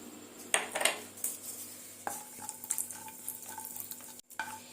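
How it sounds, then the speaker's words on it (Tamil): Cashews roast in ghee in a pan with a quiet sizzle, broken by sharp metal clinks and scrapes of a spoon against the pan, heard close with no one speaking. "இப்போ முந்திரி நல்லா வறுபட்டுச்சு எடுத்துக்கலாம்"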